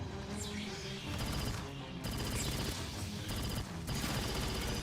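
Bursts of rapid automatic rifle fire in the sci-fi shooter game Aliens Fireteam, several sustained volleys separated by short pauses, loud and close amid game effects.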